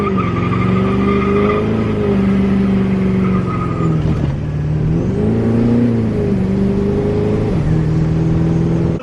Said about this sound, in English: This time we'll go, we'll do a little boosted two-wheel drive launch.